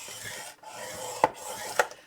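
Paper scored with a scoring tool for a recipe photo organizer craft, short scraping strokes close by, two sharper snaps or taps near the end, and brief quiet gaps between strokes.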